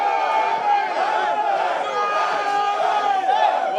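A dense crowd of Ghanaian traders from the Ghana Union Traders Association in Accra cheers loudly and continuously as their union president arrives, with shouting voices merging into a steady roar.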